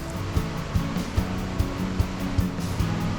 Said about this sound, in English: Whoa, look at that river.